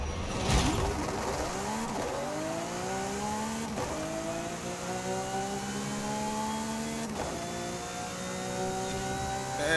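Lamborghini SC20 in Forza Horizon 5 revving up repeatedly, a steady engine note that climbs through several gear shifts with brief dips between them, loud and constant throughout with no voices.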